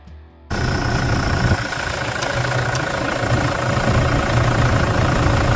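Toyota SW4 2009 pickup with its original 3.0 engine at 300,000 km, starting abruptly and then idling steadily at close range, a continuous low rumble with a slight knock, no voices.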